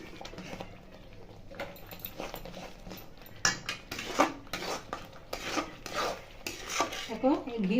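Orange halwa with ghee is stirred in a pan, with a spoon scraping and clinking against the metal in irregular strokes that grow louder and busier partway through, over a soft background.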